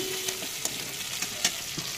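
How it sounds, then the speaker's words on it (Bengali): Spice paste for egg curry fries in a pan, giving a steady close sizzle broken by short scraping clicks of stirring. "তো সেই জন্য আমি মশলাটাকে ভালো করে কষে নিচ্ছি।"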